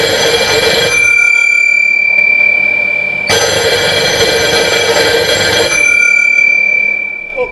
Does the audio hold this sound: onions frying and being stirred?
no